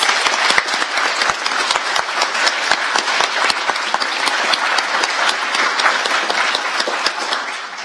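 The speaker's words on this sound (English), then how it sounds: "Could you please give James a round of applause?" An audience at a film festival gives a steady round of applause. The clapping is close and dense, with individual sharp claps standing out, and it keeps going at an even level for several seconds.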